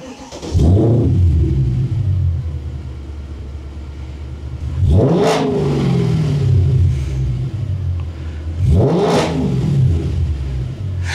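A Mercedes C63 AMG V8 under repair revs hard three times, each sharp rise falling back to a loud, rumbling idle that carries steadily between bursts.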